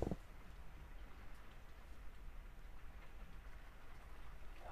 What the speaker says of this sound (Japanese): 雨すごくね。